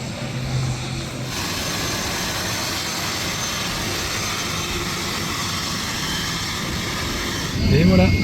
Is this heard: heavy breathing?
no